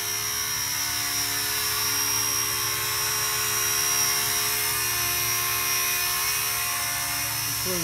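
A Blade Apache RC helicopter flies in throttle-up mode, a loud, sustained high-pitched whine from its motor and rotors that holds steady and close the whole time.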